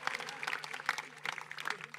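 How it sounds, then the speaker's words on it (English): Audience applause at a season presentation evening, a light scattering of claps at moderate distance, fairly sparse and brief. "Give him a round of applause, please."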